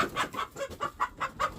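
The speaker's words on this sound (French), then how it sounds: "Mais qu'est-ce qu'elles font les poules?" Hens cluck in short, rhythmic, repeated bursts at a steady pace, heard faintly and fairly close during a countryside walk, with no talking.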